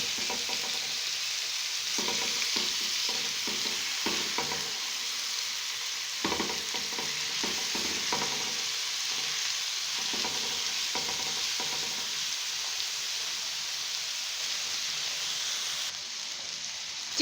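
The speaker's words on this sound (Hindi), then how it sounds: "चिकन डाल के हम इसको बस हल्का सा फ्राई करेंगे।" Chicken frying lightly on a tawa gives a steady, close sizzle throughout, broken by bursts of scraping as a spatula stirs the pieces at irregular intervals.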